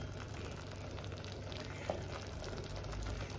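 Tomato masala with a little sugar fries in oil for dudhi kofta curry, a soft, steady sizzle with light crackles and one brief clink, faint and without talk.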